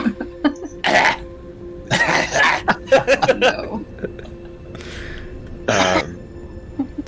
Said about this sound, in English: I do like the little small child open mouth cough.